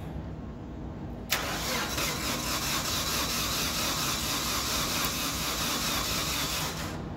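A car engine cranks over on the starter during a compression test, a steady broadband whirring that kicks in abruptly after a quiet moment and keeps going evenly until just before the end, with no talk.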